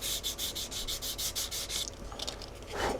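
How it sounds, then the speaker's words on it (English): Sandpaper of 400 grit rubbing over model rocket putty in quick, even back-and-forth strokes, close and steady, then a few lighter scuffs and handling noises at the end. "I just start with the 400 and give it a nice sand"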